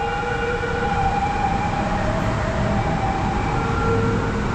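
MRT metro train pulling into a station in Thailand, a loud steady rumble with sustained tonal whine throughout, close by and without talk.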